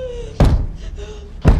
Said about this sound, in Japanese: すると、何かがドアをノックし始めます。